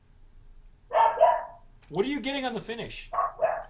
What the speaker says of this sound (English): I'm getting a dog barking next door.